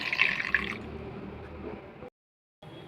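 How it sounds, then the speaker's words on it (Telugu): Water splashes and pours steadily into a metal pressure cooker for about two seconds, then stops abruptly; a brief quieter rustle follows. "1/2 గ్లాస్ వాటర్ పోసేసుకుందాం."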